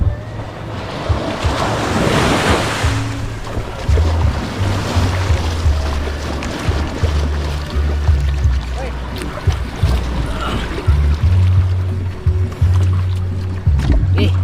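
Ocean waves wash and rumble nearby with gusty wind noise buffeting the microphone, a surge building early and then a steady churning roar.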